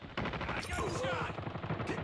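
Rapid automatic gunfire in a shooter video game, a steady stream of close, loud shots rattling through the whole moment, with game voice lines heard alongside.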